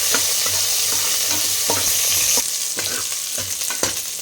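Onions sizzle loudly in hot oil in a pan for a wedding-style kurma, with repeated spoon scrapes and clinks from stirring over a constant bright hiss, no voices.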